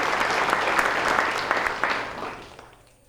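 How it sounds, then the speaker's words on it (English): A crowd at a fire and emergency services badging ceremony gives a round of applause for an absent honoree. The clapping is brisk and steady at first, then thins out and fades away. "we can sure give him a round of applause"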